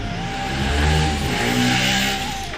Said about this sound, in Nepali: यता पछाडि चाहिँ बाइक सर्भिसिङ भइरहेको छ